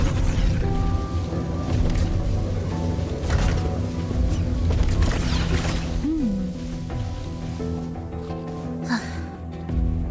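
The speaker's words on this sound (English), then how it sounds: "I detect signs of a void storm in the woods." Void storm rain and thunder in the Wuthering Waves video game, heard as steady, dense rain-like noise with low rumbling under a layer of music or game tones, continuous throughout.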